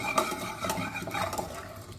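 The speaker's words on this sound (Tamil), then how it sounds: "இதெல்லாம் நல்லா மிக்ஸ் பண்ணி விட்டுக்குங்க." Soft scraping and light clinking of a spoon stirring rasam in a pot, steady and close, with no voices.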